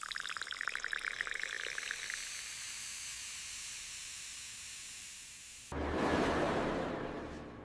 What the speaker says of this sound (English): then slowly pour the white vinegar.